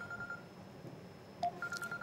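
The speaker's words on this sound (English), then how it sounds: "is somebody's phone here?" A mobile phone goes off in the audience during an economics keynote talk, a faint electronic ring heard in short tonal beeps near the end over quiet room background.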